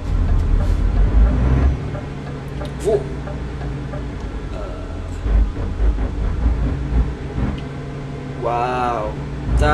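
A steady low rumble of a train rolling along in Euro Truck Simulator 2, in the undersea tunnel, with faint clatter and a brief higher whine near the end, running under a speaking voice.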